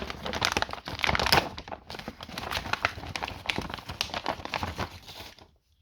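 Plastic packaging around a Traxxas winch crinkles and tears open up close, a dense run of crackling rustles that stays fairly loud throughout and stops abruptly near the end.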